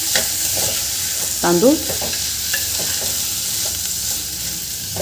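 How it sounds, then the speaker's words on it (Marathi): Washed rice being stirred and sautéed with spices in a hot pan for a masala rice dish, a steady close sizzle with scraping stirs throughout and a brief spoken word. "आणि हे छान आपल्याला मिक्स करून घ्यायचं आहे. छान असं परतून घेते 2-3 मिनटं मी"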